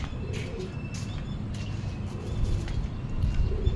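Pigeon cooing outdoors, soft repeated coos amid chirps and rustling background noise, fairly faint and distant, no speech.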